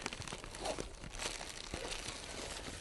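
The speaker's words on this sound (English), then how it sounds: "Inside the box is a plastic bag, and inside that plastic bag" A plastic bag crinkles and rustles close up as a camp chair is unpacked from its box, with irregular crackling handling sounds throughout and no talking.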